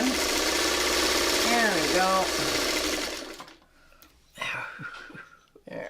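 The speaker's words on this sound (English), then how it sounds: "we're going to try and sew this as much together before we have to break thread" A sewing machine stitches fabric in a steady, fast mechanical whir for about three seconds, then stops; someone speaks briefly afterward.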